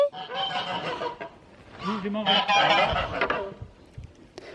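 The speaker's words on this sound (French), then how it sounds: "Sortir d'ici sans se faire attaquer par les oies, les dindons" Loud geese honking in a noisy, overlapping chorus on a farm with turkeys, close by, with bursts of cackling throughout.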